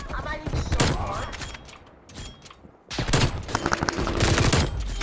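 Rapid bursts of gunfire from an AK-74U in the Call of Duty video game, loud and dense, with a brief quieter lull partway through before the shooting picks up again.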